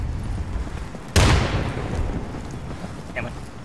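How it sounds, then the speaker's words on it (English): Frag grenade blast in the video game Insurgency, co-op match on the Dry Canal map: a single sudden loud boom that rolls off into a long decaying rumble, with a brief faint sound later. "Tossing a frag!"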